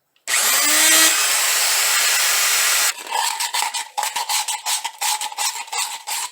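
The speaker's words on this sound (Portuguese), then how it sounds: "Estou utilizando uma furadeira aqui com uma broca de madeira de 4 milímetros." An electric drill fitted with a 4 mm wood bit bores through a tube for an aquaponics air vent, giving a loud steady whine for a few seconds that then breaks into choppy, pulsing grinding bursts as the bit cuts.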